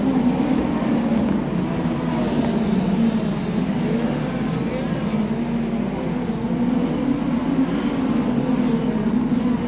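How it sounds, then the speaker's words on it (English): Midget speedcars race wheel to wheel around the Archerfield dirt speedway, their engines merging into a constant, fairly loud droning roar with a windy rush and no distinct breaks. "Keeping Caden Brown company as they go wheel to wheel through the turns 1 and 2 and down the back straight at Dispatch."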